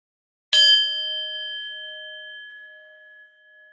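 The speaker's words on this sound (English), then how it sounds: "I will ring the bell one time" A single bright bell strike rings out clearly, then its clean tone sustains and slowly fades over several seconds in otherwise quiet surroundings.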